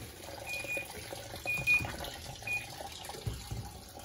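A Panasonic NA-F140B6 washing machine fills with water for a jeans load. Water runs and splashes at a moderate level while faint beeps sound now and then.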